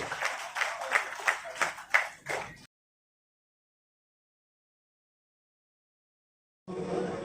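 Audience applause for an honoree at a book fair, a few seconds of dense, brisk clapping that cuts to silence, then clapping resumes briefly at the end.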